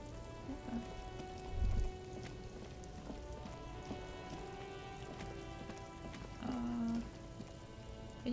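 Rain falling in the video game Disco Elysium, a steady dense hiss of drops on surfaces filling the whole scene, with a low drone and tonal hum beneath it and no voices.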